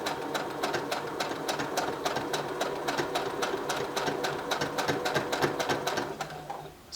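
A sewing machine stitches the seam of a Valentine's heart-shaped pillow, giving a fast, steady mechanical rattle of needle strokes. It runs close and loud for several seconds, then slows and stops near the end.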